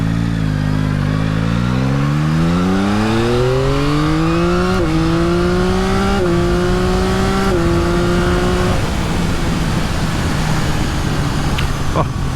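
A Yamaha XSR900 motorcycle engine accelerates hard, its rising tone climbing through several gear changes before easing off. Loud and close, the engine plays alone.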